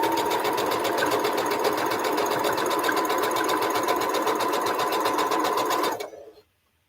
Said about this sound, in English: We should be able to stick them up here and say, sew this together.